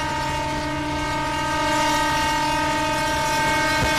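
An EMU local train horn in the MSTS Open Rails train simulator on the Sealdah–Dankuni route sounds as one long, steady, loud horn with strong harmonic tones, and the rumble of the train sits beneath it.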